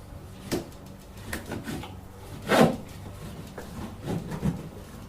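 A strap being fastened around Hive Doctor NUC boxes, with a few scattered rubbing and clunking sounds, the loudest one in the middle, close and moderately quiet.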